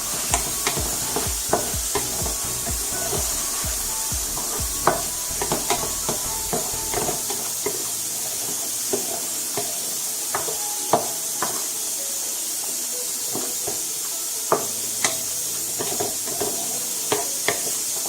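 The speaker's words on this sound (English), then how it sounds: "now I'm going to add my spinach. This is frozen spinach" Frozen spinach being stirred into a pot of Haitian beef stew, with steady sizzling and repeated scraping clicks of a spoon against the pot, close and continuous with no talk.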